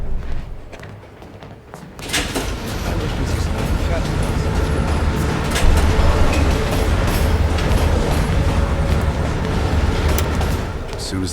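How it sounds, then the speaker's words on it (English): A moving train in Call of Duty Black Ops Cold War gives a loud, steady roar and clatter that swells after a quieter opening, close and continuous with rattling bursts throughout. "As soon as the train slows down,"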